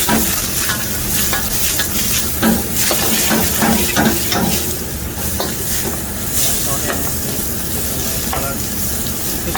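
Goat stomach curry frying over a very high flame, a steady loud sizzle and hiss with stirring scrapes and clatters throughout, no talking.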